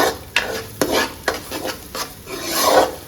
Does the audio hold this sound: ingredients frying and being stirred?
yes